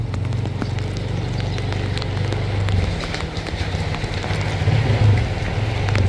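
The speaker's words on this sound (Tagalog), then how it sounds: "Walang humpay ang ulan" Dense, steady rain pours down, with a constant hiss and patter on surfaces and a low rumble underneath.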